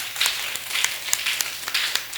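Audience applause at a French talk-show taping on professional coaching, a steady wash of many hands clapping with scattered sharper claps throughout, moderately loud and filling the room with no voices over it.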